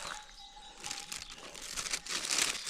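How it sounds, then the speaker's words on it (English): Plastic bag crinkling as fruit, butter and cheese are packed into it beside a well, a quiet, close series of irregular rustles and crunches that grow busier toward the end, with no talking. "Into a plastic bag."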